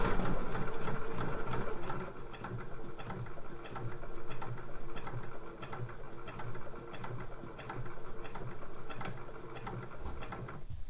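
A sewing machine runs steadily, stitching a slipper boot's outer to its lining with a fast, even mechanical whir. It slows and pauses briefly a few times, close and loud with no voices.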